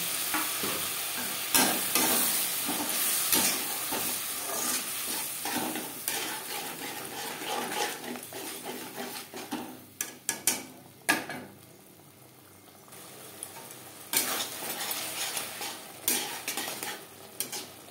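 Spice masala fries in a pan for a Bengali fish curry with a splash of water, a crackling sizzle broken by repeated scraping and clinking of a utensil against the pan, with a brief quieter lull midway.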